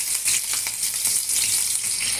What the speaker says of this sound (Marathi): फोडणी करण्याकरता आपण तेल गरम केले आहे। त्यामध्ये मिरच्या आणि लसूण टाकून